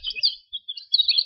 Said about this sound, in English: this is my meat bird. See how chubby he is?